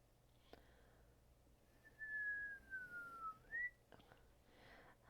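A person whistles a single clear sustained tone, gliding slightly down then rising at the end, close and alone in a quiet room while doing watercolour holiday card painting, with a couple of faint taps around it.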